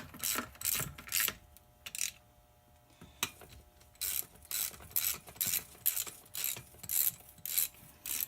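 A hand ratchet clicks in repeated quick bursts while tightening bolts on an NP 205 transfer case, with short pauses between strokes and a few metallic taps, close and fairly loud.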